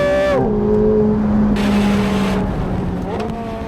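McLaren 750S Spider's engine blares loud and close on the road, a sharp rev dropping to a steady droning tone, then a rising pull near the end.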